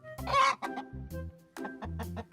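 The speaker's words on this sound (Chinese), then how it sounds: "鸡" A chicken clucks several times in short, separate bursts, loud and close, with brief gaps between the calls and nothing else underneath.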